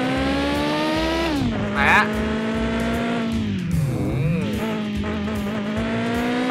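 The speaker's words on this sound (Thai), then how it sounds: "ค่อยขับไป รถแรงจัดไปครับ เวลาเราลากรอบมานี่แบบสะใจมากอ่ะทุกคน" A car in the driving game Mon Bazou revving hard and accelerating, its engine whine climbing, dipping and climbing again through gear changes, loud and close with someone talking over it.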